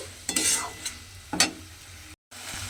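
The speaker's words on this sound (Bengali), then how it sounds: "ছানাটাও কিন্তু আমি খুব ভালোভাবে মশলার সঙ্গে মিশিয়ে কষিয়ে নেব" Chhana, or cottage cheese, is stir-fried with spices, giving a sizzle broken by a few sharp scraping stirs of a spatula, close and clear, before a brief cut to silence.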